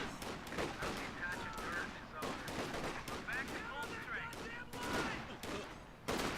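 Rifle gunfire crackles in a real-time strategy battle in Company of Heroes 2, with rapid overlapping shots and bursts, dense and steady throughout, under quiet commentary.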